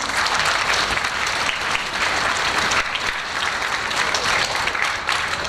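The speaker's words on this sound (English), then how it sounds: "can we give a bigger round of applause for all of your parents?" Loud, dense clapping from a large audience at a high school 9th grade concert, sustained and even throughout with no voices on top.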